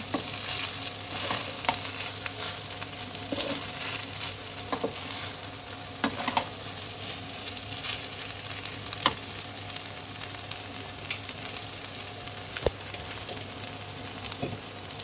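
Prawn pulao is stirred in a pan with a spoonful of ghee, making a continuous low sizzle broken by regular scraping strokes and light clinks of the spoon, with no voices.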